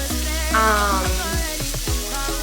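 Ingredients for rasta pasta sizzling as they are sautéed in a pan, a steady close frying hiss with scraping stir sounds and clinks throughout.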